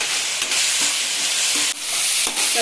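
Onion and tomato frying in a pan until soft, a loud, dense, continuous sizzle close up with faint occasional stirring taps.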